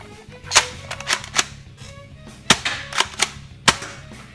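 A Dart Zone toy blaster fires long distance foam darts, with sharp snapping shots at uneven intervals, some lone and some in quick pairs, close and fairly loud over a quiet room.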